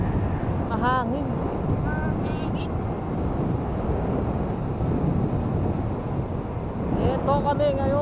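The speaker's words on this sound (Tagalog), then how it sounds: "mahangin." Wind buffets the microphone in a constant low roar while riding a Vespa S125 scooter on an expressway as vehicles drone past; a few brief tonal chirps rise over it.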